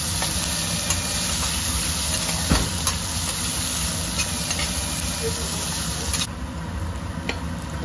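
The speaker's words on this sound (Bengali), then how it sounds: "লালচে ভাজা পর্যন্ত এটাকে আমি রেখে দিলাম। একটু লাল লাল করে ভেজে নিতে হবে এটাকে।" Onions sizzle and hiss steadily in a frying pan for a desi chicken curry, a dense continuous crackle close by, with a few brief clatters and a slight drop in level near the end.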